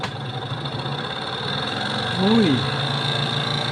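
A washing machine motor refitted as a dryer motor spins up, giving a steady mechanical whir and hum that swells slightly midway, with a brief voiced exclamation over it.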